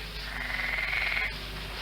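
A frog croaks in a single sustained, raspy call during rain, fairly faint and steady over a low background hum.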